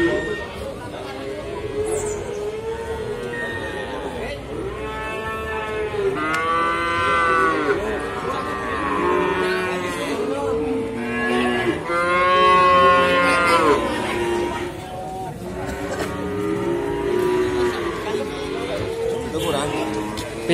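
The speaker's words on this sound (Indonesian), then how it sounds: "di depan saya ini adalah pedetan-pedetan sapi jantan yang ada di Pasar Hewan Pon Sukorejo" Young bull calves moo repeatedly at the Pon Sukorejo livestock market in Kendal, loud and close, amid a busy murmur of people talking nearby.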